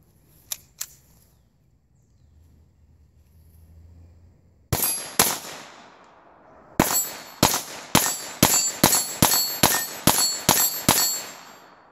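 Shots from a Walther PPQ pistol chambered in .22LR snap out sharply: a pair of faint early pops, then two shots, then a rapid string of about ten evenly spaced cracks, close and alone.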